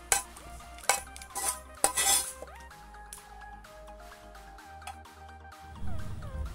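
Fried ingredients for methi onion triangle snacks are tipped into a bowl with a series of sharp utensil clinks and scrapes against the bowl, followed by soft wet shuffling at the end.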